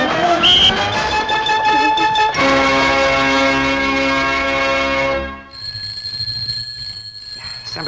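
An old telephone bell rings loudly and insistently in a continuous metallic trill, its tone shifting partway, then it stops and a fainter high ringing tone lingers.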